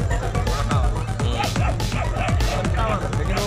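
At a dog show held during a city festival, dogs including German Shepherds and Rottweilers give several yips and barks against a loud, constant crowd roar and nearby chatter.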